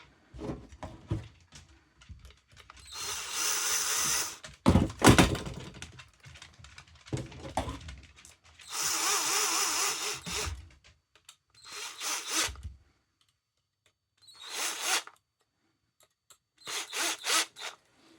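A small power driver drives countersunk screws into a 3D-printed transmission for a Losi 22S RC car, giving several short, close bursts of whirring separated by quiet pauses and light handling clicks.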